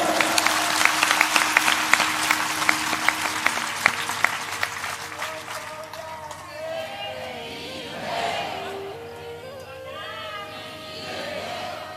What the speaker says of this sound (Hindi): ऐसी ताली बजाओगे?